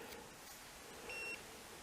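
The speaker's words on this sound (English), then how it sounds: "That was my GPS beeping, telling me I'm getting close." A handheld GPS unit gives a short, faint electronic beep as a waypoint draws near, a single tone over quiet mountain-forest background.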